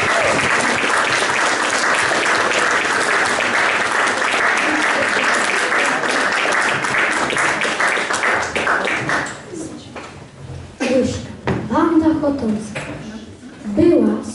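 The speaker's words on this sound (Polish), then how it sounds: "Brawa!" Audience at a school Independence Day celebration breaks into loud, sustained applause that fades into scattered clapping, with voices talking over the tail end.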